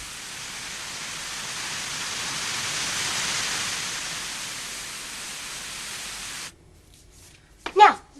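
A tanning booth switching on fills the space with a loud, steady broadband whoosh of fans and lamps that runs for several seconds, then cuts off abruptly, leaving near silence and a brief voice.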